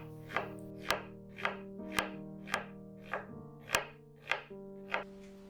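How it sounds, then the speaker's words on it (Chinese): A knife chops an onion on a cutting board, with about nine distinct, evenly spaced sharp thuds close up and no speech. "再来切一个洋葱"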